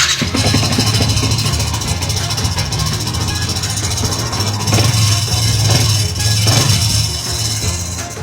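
An idling engine rumbles steadily with a tinny, rattling buzz riding on top from a loosely fitted oxygen sensor in the exhaust, close and constant throughout.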